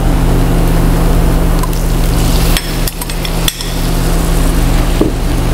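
Tomatoes go into a pan of sweated garlic on low heat, a steady sizzle and hiss with a few sharp clacks and knocks partway through, close and fairly loud, no talking.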